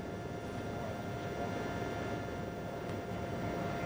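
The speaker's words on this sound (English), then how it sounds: "These are fighter jets, one would presume," Military fighter jets pass over New York City on the morning of the September 11 attacks, a dense, steady roar that holds at constant loudness throughout with no break.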